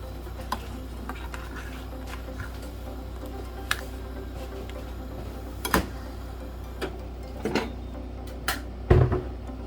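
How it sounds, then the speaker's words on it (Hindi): A spoon stirring thickening custard in a pot: faint, irregular ticks and clinks of metal scraping against the cookware, spaced out over a low steady hum, with a couple of louder knocks near the end and no talking. "अब चम्मच को अच्छी तरह से हिला देंगे, चम्मच के साथ इस कस्टर्ड को"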